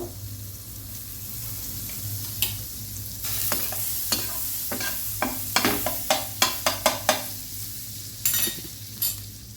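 A cube of butter sizzles softly in a pan while being cooked for bread toast, under a run of sharp metallic scraping taps from a utensil.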